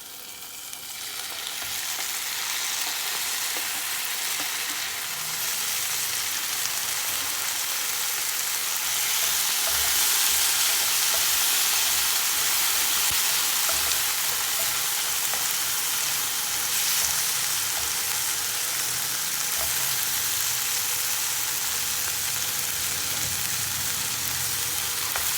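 Chopped tomatoes fry in a hot pan for a chicken recipe, a loud, dense, continuous sizzle with occasional stirring scrapes, close up and without talk.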